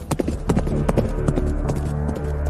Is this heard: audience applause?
no